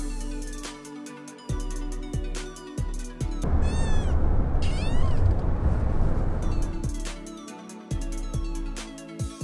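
A cat meows loudly and repeatedly up close, drawn-out yowls between a few short calls, with a stretch of sustained caterwauling in the middle and no talking.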